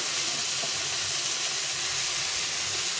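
A tomato fries in a hot pan for a Bengali fish-head and cabbage dish, producing a continuous close hiss and sizzle with no talking.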